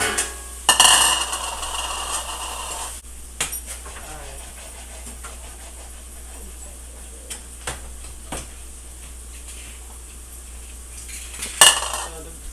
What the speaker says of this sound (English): Make sure you stir this because you're really loosening this up, the refried beans.